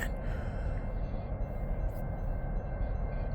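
A CSX ballast train, work train W019 led by ET44AH and AC44CW locomotives, rolls through a downtown area, heard as a steady, faint low rumble of railcars from some distance, with no talking.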